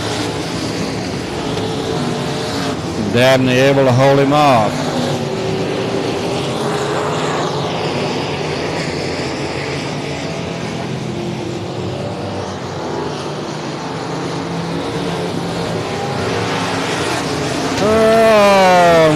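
Dwarf cars racing at Heart O' Texas Speedway, a steady roar of several engines circling the oval with passing cars swelling loudly, under continuous race commentary.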